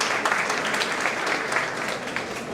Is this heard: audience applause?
yes